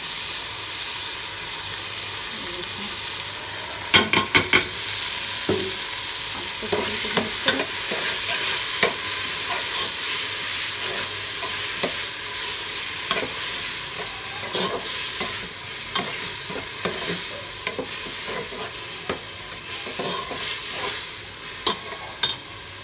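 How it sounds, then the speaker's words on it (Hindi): Washed fenugreek leaves hitting browned onions in a pan for aloo methi, a continuous close sizzle with frequent spatula scrapes and clacks as everything is stirred and fried. "ये आ गई मेथी, इसको मैंने वॉश कर लिया था अच्छे तरीके से। अभी मैं इसमें अनियन में ऐड कर रही हूँ"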